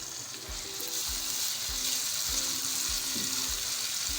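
Steady, close sizzling of ginger garlic paste frying in hot oil with spices for chicken tikka biryani, with a regular stirring scrape about every half second and no voices.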